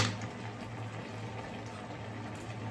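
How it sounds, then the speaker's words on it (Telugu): Tomatoes and tamarind simmer in a pot with a steady, close bubbling and soft hissing that runs unbroken throughout, with no voices over it. "సో ఇప్పుడు బాయిల్ అవుతున్న టొమాటోస్ లోకి అయితే మనం ఉల్చి పెట్టుకున్న చింతపండు అయితే వేసుకుందాము"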